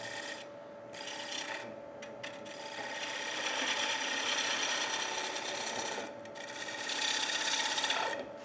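Wood gouge cutting into a spinning platter on a lathe, a continuous rasping scrape that swells and eases in passes with short breaks between cuts.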